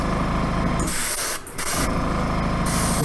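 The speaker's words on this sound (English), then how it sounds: "you have to spray the models upside down to make sure" Aerosol spray paint hissing onto Reaper Bones plastic miniatures held upside down, a steady close hiss that breaks off briefly in the middle before a second continuous burst.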